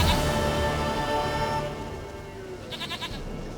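A goat in Witcher 3 lets out a short series of wavering bleats, close and clear over a low rumbling game ambience.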